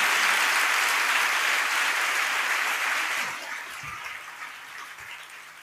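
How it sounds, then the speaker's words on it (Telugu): A church congregation claps in sustained, busy applause that fades partway through to a few scattered claps at the end. "చప్పట్లు కొట్టి గుర్తుపెట్టుకో"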